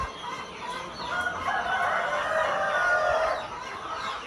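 Brahma chickens and a rooster in a new poultry house on a farm cluck and call continuously, a busy mid-distance flock chatter that swells in the middle, with no talking.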